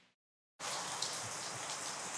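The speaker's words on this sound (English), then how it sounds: "So day one, we've been greeted with rain this morning." Steady rain falls outdoors at a camp on the edge of a floodplain, a dense continuous patter that starts abruptly after a brief silence and keeps going evenly and fairly close.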